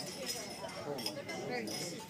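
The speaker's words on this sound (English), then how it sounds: "Please raise your glasses and join me in a toast to Brian and Lauren" Glasses clink lightly a few times during a wedding toast, bright and brief, over a busy mix of guests talking.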